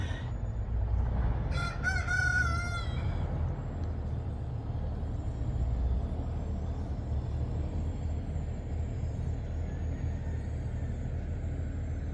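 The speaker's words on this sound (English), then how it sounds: "There were like a chorus of roosters. One would call out, and then another one would answer." A single rooster crows once, fairly loud and nearby, over a constant low hum of distant traffic that carries on afterward, in the town of Bernal.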